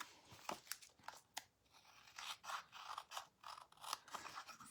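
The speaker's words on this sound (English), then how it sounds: "I'm just going to follow along with my scissors" Scissors trimming strips of cardstock, a series of crisp, close snipping crunches with short pauses between cuts, quiet and steady over several seconds.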